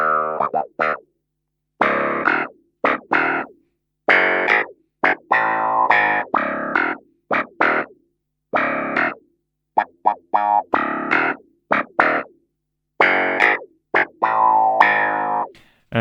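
A Yamaha Reface CP electric piano played through an auto wah effect, short twangy filtered chords and notes in separated bursts with silent gaps between.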